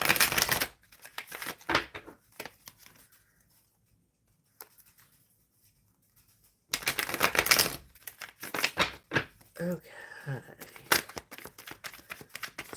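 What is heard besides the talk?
shuffling tarot cards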